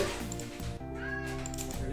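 A cat meows indoors, a clear close call under a person's voice and a steady background hum.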